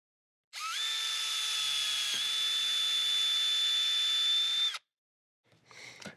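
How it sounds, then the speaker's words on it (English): A high-pitched drill with a 1/8 inch bit whines steadily for about four seconds, close and loud, while installing a ceiling vent, then stops; a brief rough burst follows after a short pause. "we're going to go through with our drill bit"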